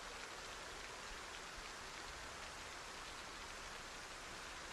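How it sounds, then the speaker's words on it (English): Steady, even rain hisses down in Project Zomboid, a dense soft wash that holds constant throughout with no voices or other sounds. "listening to the sound of the rain"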